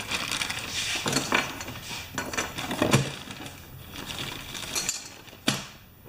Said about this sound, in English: I'm going to just grab a little dish for all this carburetor stuff